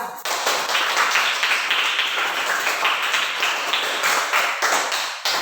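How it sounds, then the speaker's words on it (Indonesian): A classroom full of students clapping steadily for several seconds, a dense, even patter of applause with no talking. "Tepuk tangan dulu untuk kelompok 3"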